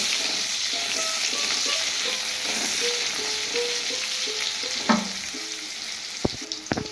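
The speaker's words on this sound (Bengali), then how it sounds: "এবার বেগুনগুলো আমি লাল লাল করে ভেজে তুলে নেব।" Lightly salted eggplant pieces fry in hot oil for a Bengali dudh shukto, a soft, continuous close sizzle with a few sharp clinks of stirring near the end.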